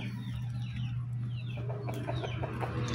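Chickens cluck in a farmyard on a countryside farm, with short scattered clucks over a steady low hum and background noise throughout.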